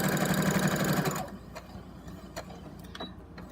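A sewing machine stitching across the edge of a fabric drawstring bag, running in a fast, steady mechanical chatter for about a second before stopping, followed by quiet handling sounds.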